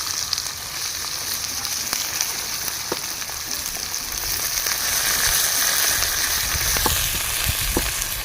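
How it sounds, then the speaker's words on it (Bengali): Carrots and beans fry in a pan with a steady, close sizzle that holds for the whole stretch, joined by a few faint stirring clinks and no speech. "সবজিগুলো ভেজে নেব প্রথমে দিয়ে দিচ্ছি গাজর"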